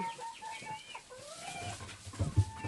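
Farm chickens clucking and calling in short wavering notes, fairly close, with a few louder low bumps near the end and no talk.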